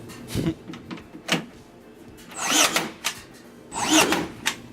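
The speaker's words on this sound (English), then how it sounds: "First time I've used a powered nail gun." Makita cordless brad nailer firing nails during a home renovation, heard as a few sharp, close mechanical shots with brief whirring bursts about a second apart, with quiet handling noise between.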